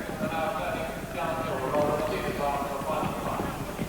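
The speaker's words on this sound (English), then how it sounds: "Gala's Image and Music Be Magic, meanwhile, almost matching strides as they run down towards the next" Racehorses galloping in the 1987 Glen International Chase steeplechase at Cheltenham, a steady distant drumming of hooves mixed into crowd noise, largely under a race commentator's continuous talk.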